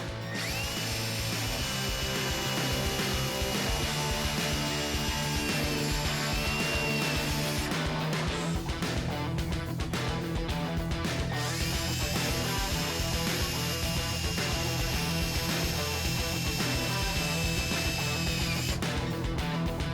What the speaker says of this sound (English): we're going to drill a little hole